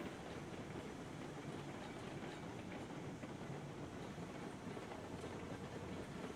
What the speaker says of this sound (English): He is going a little fast. You can hear that quick chuffing sound.